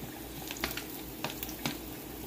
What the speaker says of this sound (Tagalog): Pag nagigisa ko, inuuna ko ang bawang.